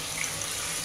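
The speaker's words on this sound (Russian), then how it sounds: "надо обязательно проверить, как работает слив" A brief rush of water draining in a hotel sink, a steady hissing flow without any voices.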